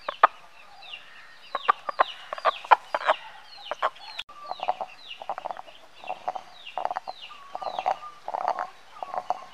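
Chickens cluck steadily and fairly close, sounding like a backyard flock, with overlapping calls and short squawks from several birds and no talking.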